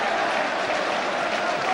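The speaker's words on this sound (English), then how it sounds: "Applauded by some Celtic fans." Celtic fans applauding at a football match against Dundee United, a dense burst of clapping from the stands that holds steady and fairly close for under two seconds.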